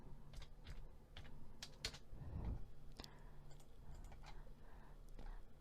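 Quiet, rapid clicking of computer keyboard keys during accounting data entry, with irregular keystrokes and a few sharper taps over a faint background hum.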